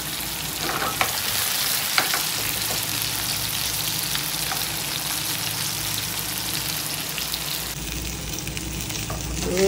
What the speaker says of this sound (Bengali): মাছ ফ্রাই হয়ে গেছে